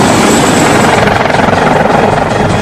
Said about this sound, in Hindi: यह फाइटर हेलीकॉप्टर इस तोप को धीरे धीरे नीचे उतारता है